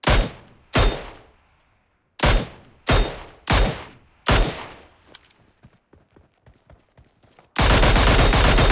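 Gunfire in the mobile battle royale game PUBG Mobile: six loud, sharp shots with ringing tails, then a string of faint distant pops, ending in a sudden dense burst of noise.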